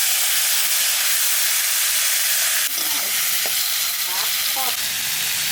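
Tomatoes frying in mustard oil with five-spice for chutney, a loud, steady sizzle that surges as they hit the hot oil, with a few light scraping stirs near the end and no talking.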